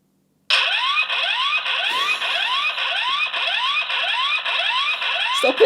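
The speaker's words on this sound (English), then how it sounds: "this alarm button that you can press, which will scare the crap out of anyone that's outside your door" A video doorbell's alarm siren kicks in abruptly and loops loudly up close, a harsh repeating rising electronic whoop with a shrill buzzing edge, pulsing about every half second.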